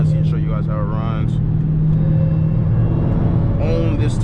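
Dodge Hellcat with 850 horsepower idling and running, a steady deep engine rumble with a strong low hum throughout, close and loud, with a brief rise near the start and end.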